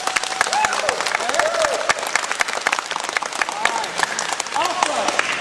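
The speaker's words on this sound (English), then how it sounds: "clapping real loud for them" Summer campers clap loudly for their coaches, a dense burst of applause with scattered whoops and voices mixed through it.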